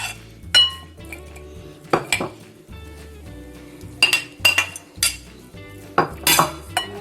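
Chickpeas and boiled potatoes go into a bowl for papri chana chaat, giving several clear clinks and knocks of utensils against dishware, some sharp and close, over a low steady background hum.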